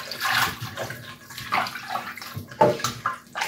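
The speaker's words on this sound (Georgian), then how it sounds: "მოდი ამას ახლა წყალში ჩავაყენებ და დავტოვე." Running water splashes and sloshes nearby as a glass object is lowered into it. The splashing comes in short, uneven bursts of gurgling and pouring, with no talking.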